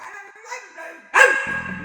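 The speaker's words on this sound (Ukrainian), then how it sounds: "Хто не знав, Альберт, в мене є такий пес мопс." A pug gives a single sharp bark close by after some quiet whining vocal sounds, with game-like tones following.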